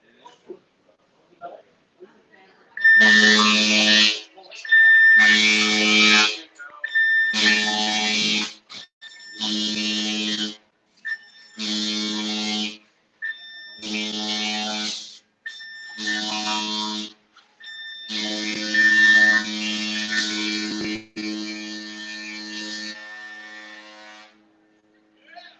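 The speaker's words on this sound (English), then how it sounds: "followed by 1 long blast on the ship's whistle" Whistle of the Carnival Magic cruise ship at sailaway, a series of loud deep tonal horn blasts separated by short gaps, ending in one longer blast that fades out, heard alone without talk.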